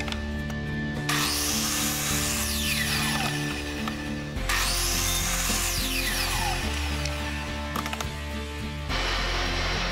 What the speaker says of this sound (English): I readjusted my miter saw to 45 degrees and trimmed the feet on the center legs